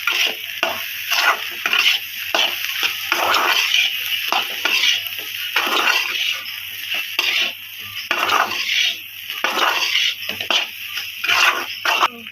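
A spoon stirs and mixes an egg fry in a metal pan, making rapid, rhythmic scraping and clinking strokes that come in repeated bursts over a faint sizzle, close and fairly loud, with no talking.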